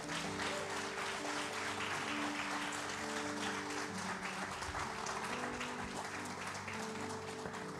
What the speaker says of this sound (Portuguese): Então aplauda Ele bem forte.